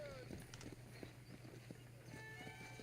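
Horse hooves clip-clop at a steady walking pace in the video game Red Dead Redemption, a run of soft, moderately close hoof strikes set over a quiet musical drone with faint tonal accents.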